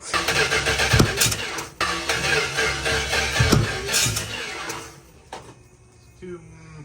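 Engine of a 1973 Dodge Challenger cranking repeatedly as it tries to start, loud and close, with bursts of turning over and brief pauses, settling quieter near the end.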